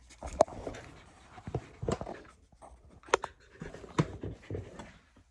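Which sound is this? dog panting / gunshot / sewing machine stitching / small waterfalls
dog panting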